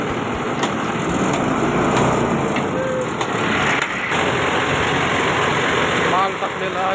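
An Apollo thresher machine runs continuously with a steady high-pitched mechanical whine and engine drone, loud and close.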